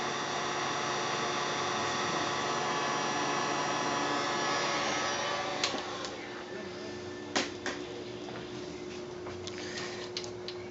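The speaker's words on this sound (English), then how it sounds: "Give it a blast of warm air to shrink them down." A heat gun blows warm air onto shrink tubing during a Mitsubishi DLP TV repair, giving a steady hiss that drops to a quieter whoosh halfway through, with a few clicks afterward.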